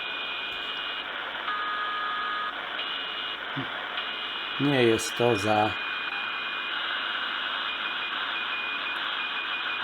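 A steady high-pitched CW radio beacon tone, received on an AOR AR8200 receiver under repair, hums over constant static hiss, with a brief burst of speech partway through.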